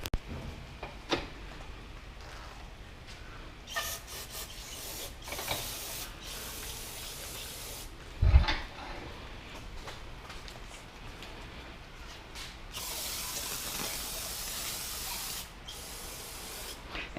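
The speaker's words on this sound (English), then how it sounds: "We're going to flip it over and then respray and just keep working it." A Honda J-series V6 crankshaft being sprayed down in a workshop, steady hissing bursts that start and stop repeatedly, with a sharp knock midway and a longer spray near the end.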